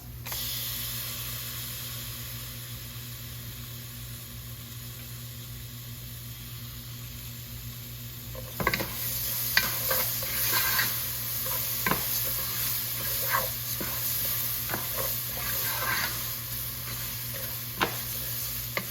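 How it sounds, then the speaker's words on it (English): Tomatoes dropped into garlic and onion already frying for Mexican rice: a steady hiss first, then a livelier sizzle with stirring clinks and scrapes, close and continuous with no voices. "I'm gonna go ahead and add some tomatoes."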